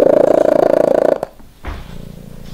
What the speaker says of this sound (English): A domestic cat's purr has a frequency of between 25 and 150 hertz